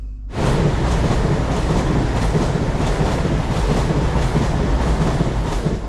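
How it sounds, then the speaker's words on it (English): A train roars past close by at a busy Yorkshire railway station, loud and continuous, with a rhythmic clatter of wheels over the rail joints and no voices. "Perfect for watching the trains go by."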